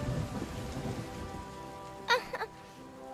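Steady, hissing film rain falls with a low rumble of thunder underneath, and a few short, higher sounds break through near the middle.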